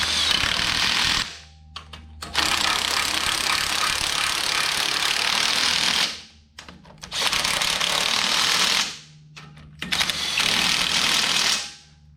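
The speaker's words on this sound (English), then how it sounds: "I'll check all these with a wrench to make sure they're good and tight" A wrench tightens bolts during maintenance work, heard as three long, loud, buzzing mechanical bursts separated by short quiet pauses, with no voices.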